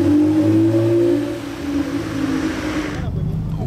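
A Honda NSX revs as it passes at night in Monaco during the Grand Prix, its loud engine roar holding steady and then easing off as it moves away, with faint voices in the background.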